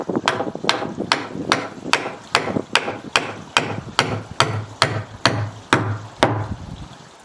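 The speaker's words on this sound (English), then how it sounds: "So I've got a rubber mallet here." Rubber mallet hammering a long beam into place during a koi pond build: about fifteen evenly spaced, solid thuds, close and loud, each with a short ringing decay, and no voices.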